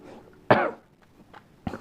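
Two sharp coughs, one strong and one lighter, separated by a quiet pause with faint breathing in between.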